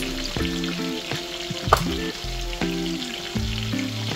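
Food fries in olive oil with a steady crackling sizzle, joined by occasional clinks and scrapes from the cookware, while faint musical tones play in the background.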